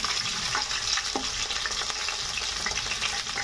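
Cashew nuts fry in a pan for a bisi bele bath, giving a steady close sizzle with faint stirring clicks throughout.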